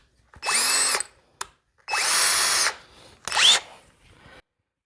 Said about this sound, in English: now that I've gotten that drilled out